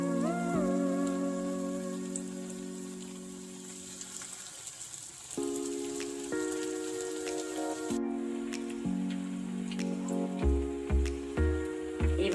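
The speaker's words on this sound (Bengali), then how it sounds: "এবার ভালো করে ব্যাটার ঝরিয়ে তেলে দিয়ে দেব।" Batter-coated cabbage snack pieces frying in hot oil, a close crackling sizzle like steady rain with a constant bubbly hiss, and loud tonal background music playing over it.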